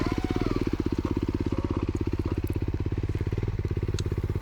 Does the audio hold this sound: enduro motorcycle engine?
yes